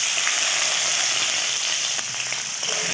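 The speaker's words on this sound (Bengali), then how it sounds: "এবার এটাকে একটু তেলে নেড়ে নেব" Small fish frying in hot oil with mustard seeds and a chili, a steady, close sizzle that holds for the whole stretch, with a few faint crackles and pops on top.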